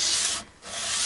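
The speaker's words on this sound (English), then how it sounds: "it's always invaluable, I find, to have a sanding board ready" A guitar part rubs back and forth on a sanding board in two close, gritty strokes with a short pause between them.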